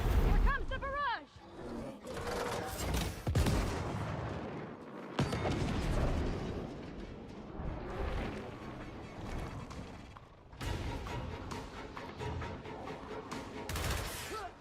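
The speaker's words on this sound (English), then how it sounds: "Here comes the barrage." An artillery barrage in the video game Gears of War: a dense, loud, continuous storm of booming impacts and rumbling explosions, mixed with roaring bursts, with a few brief dips, lasting throughout.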